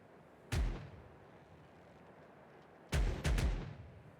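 Ship cannons fire a broadside in a video game: one loud booming shot, a pause, then three more blasts in quick succession, each with a rumbling tail over a low background hum.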